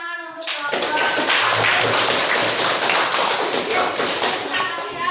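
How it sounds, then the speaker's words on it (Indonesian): A classroom of students claps for a presenting group, dense loud applause that bursts in after a brief voice and continues steadily to the end. "Oke, tepuk tangan untuk kelompok."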